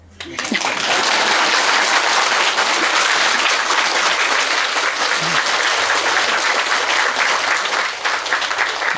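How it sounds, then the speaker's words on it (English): Loud, sustained applause from a crowd, steady clapping that fills the whole stretch from start to finish without letting up. "Now applause."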